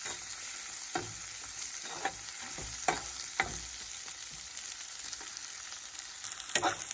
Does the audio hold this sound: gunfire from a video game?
no